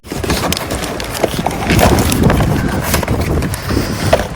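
Strong wind buffets a microphone outdoors while a DJI Mini 4 Pro drone is being set up, a loud, continuous rumbling gust noise filling the whole stretch with no speech.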